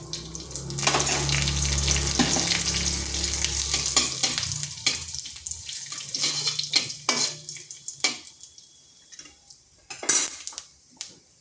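Bay leaf, dried red chilli, cardamom, cinnamon and whole cumin dropped into hot oil for a vegetarian yam curry, with a loud sizzle over the first four seconds, then clinks of utensils against the pan and scattered crackling that tapers off.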